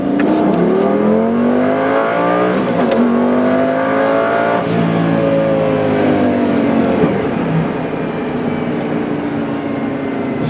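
A high-revving Lamborghini Gallardo engine screams loudly and continuously to 8,000 RPM, its pitch climbing and falling through several sweeping revs, close and with no voices.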